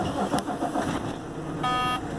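A truck engine is started inside the cab during a pre-drive safety start, with a short cranking burst and a brief whine, then a steady low running rumble at moderate level.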